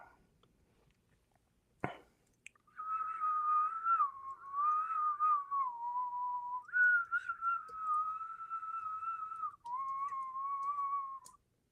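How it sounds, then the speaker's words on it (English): A person whistles a slow, wavering tune of long held notes, close and clear, after a single sharp tap. "And I'm whistling"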